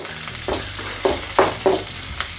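Green chillies fry in hot oil in a pan for a fish curry, a steady close sizzle with a few soft scraping stirs of a spoon, no talk.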